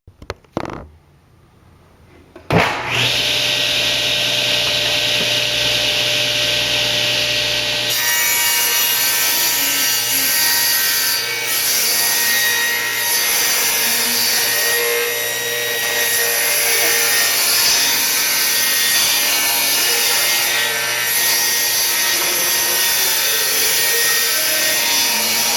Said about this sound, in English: I've set the saw now to trim off the other side